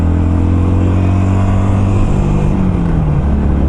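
A Harley-Davidson Sportster Classic motorcycle engine drones steadily while riding, a loud, close, low rumble whose pitch holds and then shifts slightly near the end, with no talking.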